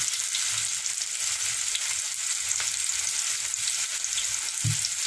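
Vegetables sweating in a pan give off a steady, close, even frying sizzle that runs throughout, with a soft bump near the end and no voices.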